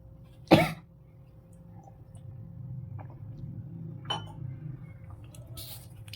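One short, sharp human cough stands out clearly near the start, followed by quieter room noise and a faint throat sound later.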